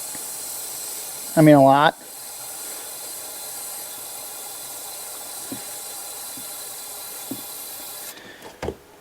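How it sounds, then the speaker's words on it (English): Carb cleaner sprays into a 1996 Camaro's 3.8L engine as a continuous hiss for several seconds, with a brief spoken phrase near the start and a few small knocks at the end. "So I'm just going to hose this thing with carb clean."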